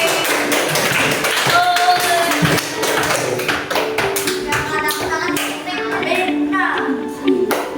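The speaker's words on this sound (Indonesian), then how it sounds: "Iya, tepuk tangannya untuk Ame." Classroom of students clapping for a classmate named Ame, a dense patter of hand claps with children's voices chattering underneath throughout.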